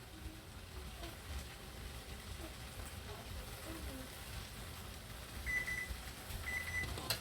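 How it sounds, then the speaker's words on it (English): A kitchen timer signals that cooking noodles are done, two short pairs of high electronic beeps near the end over a steady background hiss. "That's our noodles beeping that they're done."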